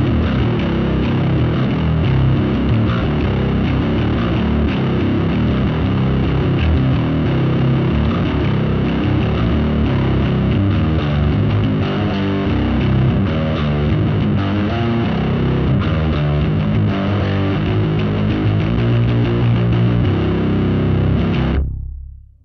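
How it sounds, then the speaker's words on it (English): A heavy distorted bass tone plays through a Mooer Minimax M1 modeller, a thick saturated riff sustained loudly for about twenty seconds before cutting off abruptly. "Let's also try one of the heavy bass tones just for fun."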